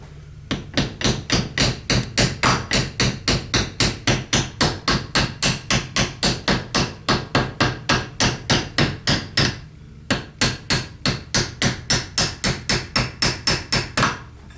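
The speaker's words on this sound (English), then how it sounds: "hammer," Steady, rapid hammer blows strike a metal part of a New Holland 3930 tractor's power steering cylinder dozens of times at an even rhythm, close and loud, with one brief pause partway through.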